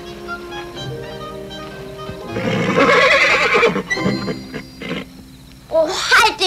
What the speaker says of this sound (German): Maggie, hör auf, mit dem Pferd zu spielen